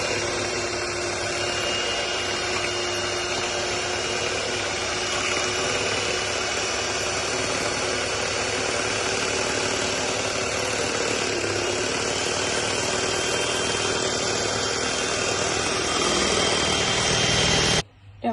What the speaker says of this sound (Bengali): আবারও আমি 2 থেকে 3 মিনিটের মতো ব্লেন্ড করে নেব।